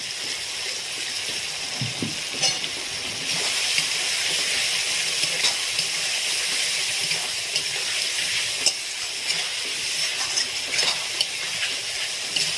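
Spice paste for a snakehead fish curry sizzles steadily in a pan after a splash of water, giving a continuous bright hiss with occasional small pops, close and unbroken.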